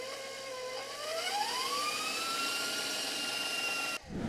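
Electric stand mixer running steadily while mixing pecan snowball cookie dough, its motor whine shifting upward in pitch as flour is gradually added, then cutting off abruptly near the end.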